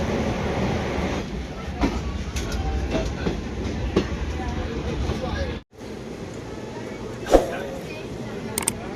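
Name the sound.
riding on a moving passenger train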